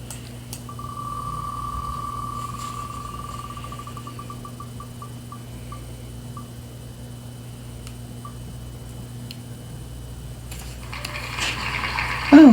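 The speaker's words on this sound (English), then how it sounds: "let's come up closer to shuffle and spin the wheel" A prize wheel spins with a rapid ratcheting click that gradually slows to spaced single ticks and stops, faint over quiet room hum.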